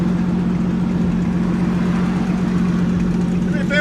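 Idling car fitted with a modified catback exhaust, a steady low rumbling drone running loud and continuous throughout, with a faint higher chirp near the end.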